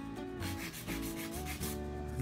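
Acrylic nails being hand filed with a nail file, producing close, quiet, repeated rubbing strokes in an uneven rhythm, with no speech.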